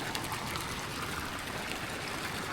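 Hot spring water at a Bali site washes down into a river, a steady broadband rushing and trickling flow, close and even throughout with no voices.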